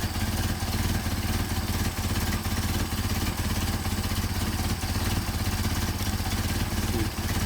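Mercedes 190SL engine fitted with Solex 44PHH carburetors idles low and steady, a continuous rhythmic chugging with a faint clatter, close and unbroken throughout with no voices.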